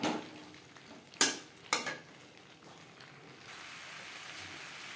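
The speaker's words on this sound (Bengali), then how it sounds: "ওলকপির সাথে আলু বেশ ভালো করে মিক্সড করে দেবো" Boiled potatoes and kohlrabi are stirred in a pan with a metal utensil, two sharp clanks standing out over a soft, steady sizzle.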